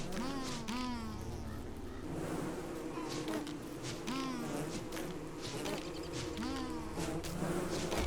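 Bees buzz continuously around a hive in Don't Starve, a dense, steady insect drone with rising and falling whines layered over game ambience.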